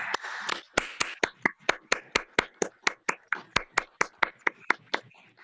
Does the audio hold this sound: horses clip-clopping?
no